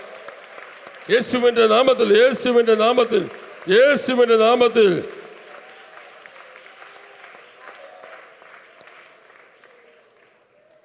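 Church congregation clapping hands loudly in two vigorous bursts during a Pentecostal prayer meeting, mixed with a preacher's amplified speech, then fading into quieter room murmur.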